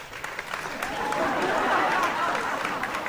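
Audience at a relationship talk clapping and laughing together, a soft swell of applause and crowd murmur that builds and fades over a few seconds, without clear speech.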